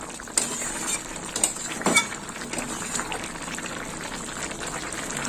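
Pea curry bubbling in a pan, a soft steady simmer with faint popping and a few brief clinks of a utensil against the pan, fairly quiet and close.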